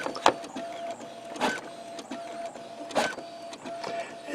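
A Brother MFC inkjet printer runs test sheets, giving a steady mechanical whir with a faint tone and a rhythmic clack of the print head about every one and a half seconds, close and moderately loud.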